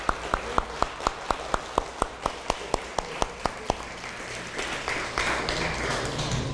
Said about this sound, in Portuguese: Agora dá um aplauso ao Senhor.